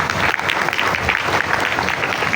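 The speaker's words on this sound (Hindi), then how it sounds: "अपने लिए जोरदार तालियां" Dense, steady applause from a group fills the whole stretch, loud and continuous with no talk over it, during a Python programming class session.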